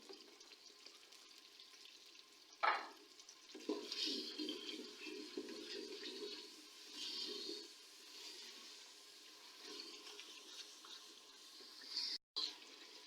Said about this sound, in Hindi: ये देखिए मसाला हमारा भुन चुका है, ऑयल अच्छी तरह निकला है